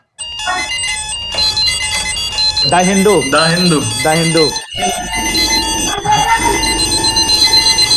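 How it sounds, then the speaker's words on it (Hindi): Alarm clocks ringing in Rajendra Nagar, steady electronic tones and beeps running through, with a voice speaking briefly over them. "अलार्म क्लॉक्स बज रही हैं।"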